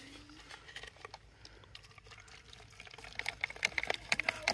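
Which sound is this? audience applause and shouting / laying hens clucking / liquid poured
liquid poured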